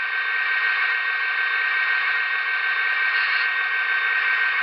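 Air lines filling on a Broadway Limited EMD GP30 model locomotive sound system: a steady, even, moderately loud hiss of rushing air that holds constant without a break.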